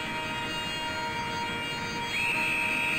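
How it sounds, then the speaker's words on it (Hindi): A steady tonal train horn blares in a train simulator game, growing louder partway through, over a constant low mechanical rumble. "हम यहाँ पे और हॉर्न मार देते हैं ताकि हम यहाँ से डिपार्ट कर सके।"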